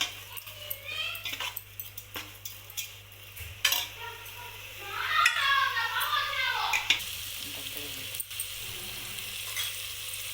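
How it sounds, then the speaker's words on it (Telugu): Pre-fried moong dal frying in oil in a pan of masala for Rayalaseema-style moong dal kichidi, a steady close sizzle with stirring scrapes and utensil clinks that swells louder in the middle. "ముందుగా ఫ్రై చేసుకున్న పెసరబేళ్ళను వేసుకోవాలి బాగా ఆయిల్లో ఫ్రై చేసుకోవాలి"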